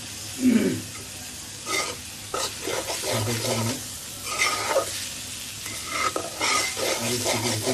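Fried vegetables with chopped coriander leaves stirred in a pan, a continuous sizzle overlaid by repeated scraping strokes of a spatula, close and fairly loud, with no voices.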